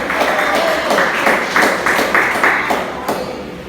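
A church congregation claps for about four seconds, a moderately loud burst of applause whose rhythmic claps gradually thin toward the end.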